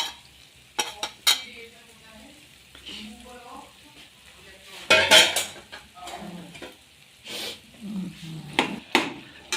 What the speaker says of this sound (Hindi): इसको मेल्ट होने तक मैं लगातार चलाते हुए अच्छे से